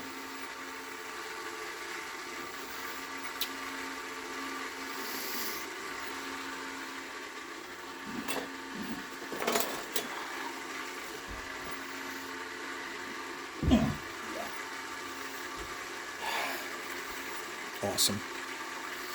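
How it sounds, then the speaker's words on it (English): Oil pump cavitating on a Regis HS1 honing cabinet while machining a cylinder head guide boss, a steady churning, watery whir with brief louder gurgling surges, close up, with a voice speaking a word over it. "the pump was actually cavitating"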